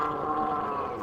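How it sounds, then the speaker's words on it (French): A red deer stag bellows during the rut in the forests of Chambord, France: one drawn-out, moaning call that holds steady and then fades, with no talking. "Le brame du cerf a commencé dans les forêts de Chambord"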